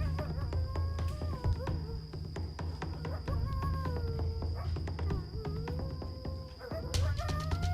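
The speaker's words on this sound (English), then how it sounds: "Coyotes." Several coyotes howling and yipping together in a wavering chorus, steady and fairly close, with a constant high whine in the background.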